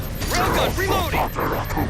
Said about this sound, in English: Railgun, reloading!